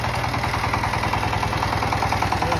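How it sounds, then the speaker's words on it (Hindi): A tractor engine runs steadily at a close, even idle-like throb with no breaks, heard alone without voices in a short stretch. "ये ट्रैक्टर सही हाथ से चलाने वाला"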